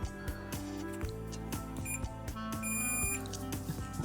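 A Fluke multimeter set to continuity mode gives short electronic beeps at the end of a cheap quarter-wave vertical antenna, with clicks and handling noise around the tones.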